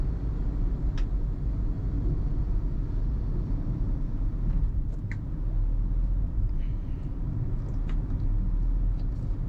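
A 2025 Nissan Magnite's engine hums steadily from inside the cabin during a night drive, a continuous low rumble with road noise and no talking.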